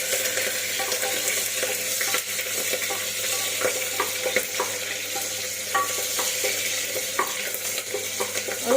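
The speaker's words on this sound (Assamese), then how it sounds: "পিয়াজটো অকমান ৰঙচুৱা হোৱালৈকে আপোনালোকে ভাজিব এনেকে" Onions fry in oil inside a pressure cooker for a goat meat curry, with a steady sizzle punctuated by frequent scraping and clinking strokes of a stirring spoon against the metal pot.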